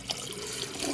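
Water pours steadily from a GE refrigerator's door dispenser, a close, even rushing stream heard alone with no voices over it.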